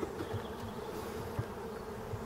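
Honeybees hum steadily around an open production beehive, a dense, continuous drone with a few louder passes of bees flying close.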